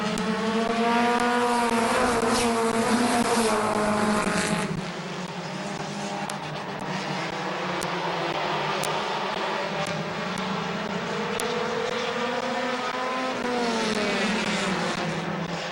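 Race cars lap Midvale Speedway in a continuous engine roar whose pitch rises and falls as the cars pass by. The noise is loud and sustained throughout, with no talking.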